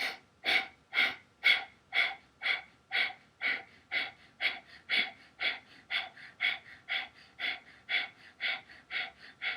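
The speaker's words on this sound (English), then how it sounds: "Take an inhale. Exhale." Yoga practice breathing in a fast, steady rhythm, roughly twenty forceful breaths close by with even, regular pulses and no talk.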